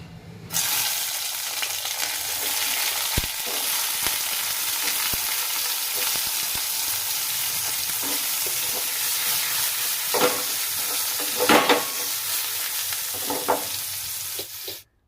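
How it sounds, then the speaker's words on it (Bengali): Eggplant fries in mustard oil over a low flame, giving a long, steady sizzle with occasional scrapes and clinks of stirring, close and fairly loud. "একটু লো ফ্লেমে সময় নিয়ে বেগুনটাকে ভাজতে হবে"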